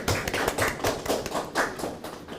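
Scattered hand claps from a forum audience welcoming a university urban-planning professor to the lectern, a short, fairly quiet burst of uneven taps with no talking over it.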